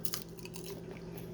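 Crunchy golden air-fried food is bitten and chewed up close in short, quiet crunches, with no talking.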